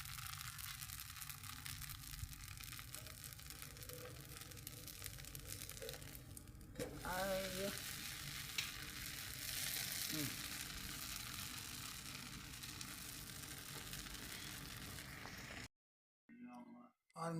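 A dosa crisping on a hot pan, with a continuous close sizzle and crackle that swells partway through, a voice briefly audible over it, ending in near silence.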